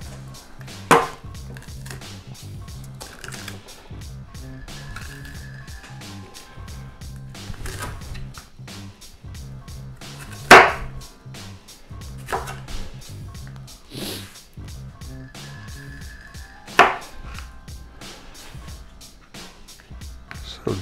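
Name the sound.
chopping bell peppers for homemade salsa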